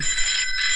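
A telephone rings in a brief bright burst, a sharp metallic trill that is loud and close, with nothing else heard beneath it.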